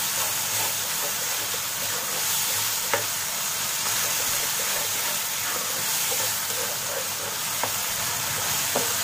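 Ginger-garlic paste fries in a pan for an aloo keema masala, giving a steady, close sizzle with spoon stirring and a few sharp clicks scattered through.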